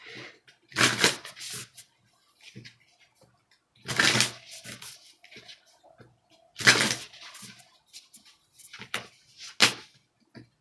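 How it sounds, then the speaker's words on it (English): Tarot cards are shuffled in several quick, papery riffling bursts separated by short quiet gaps, close up. "I'm shuffling these cards in."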